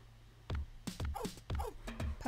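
A puppy in a pet-the-puppy party game barks and whimpers in a series of sharp, close yips and bow-wows, five or so bursts in quick succession with short gaps, loud against a quiet backdrop.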